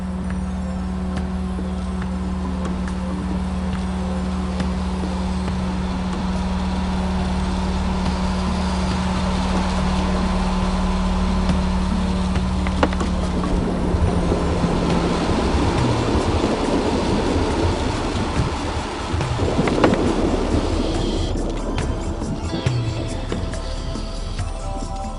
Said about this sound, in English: underwater grows to a loud roar as Teddy revs the engine higher and higher.